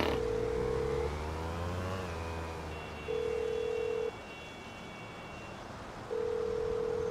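A telephone call tone in Grand Theft Auto V sounds as steady tonal beeps in a ringback pattern, each lasting about a second with gaps between, fairly close and clear over a low background hum.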